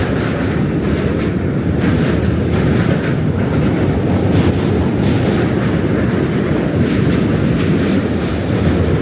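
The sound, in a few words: train passing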